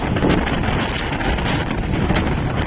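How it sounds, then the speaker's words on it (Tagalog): Steady, rushing wind of the strong northeast monsoon in Balabac, Palawan, buffets the microphone throughout, a constant low roar with gusty swells and no voices. "Medyo mahangin lang sa panahon ngayon"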